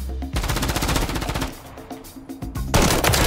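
Rapid automatic gunfire in a first-person shooter video game, a dense sustained burst of shots that breaks off briefly and then resumes loudly, with no voices over it.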